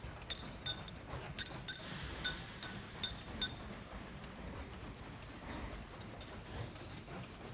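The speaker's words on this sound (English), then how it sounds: "Well, these happy little trains." Trains in the railway-building video game Mashinky run with faint, quiet clinks and soft metallic pings scattered over a low rumbling background, with no talking.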